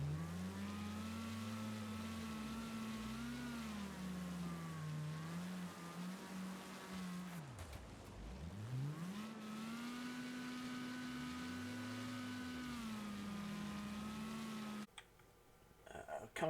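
A car engine in Wreckfest, driven on snow, holds high revs through a corner, its pitch rising and dipping with shifts over a sustained loud drone, with someone talking over it.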